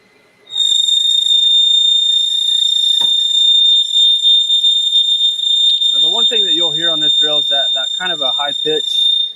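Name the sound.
high-pitched noise of CNC machine drilling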